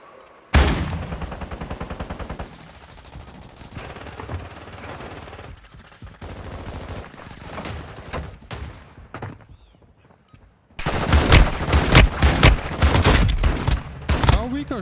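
Rapid bursts of shotgun fire in Call of Duty Warzone on Rebirth Island, loud and dense, with several clustered volleys separated by quieter game noise and a short near-silent gap before a final heavy barrage.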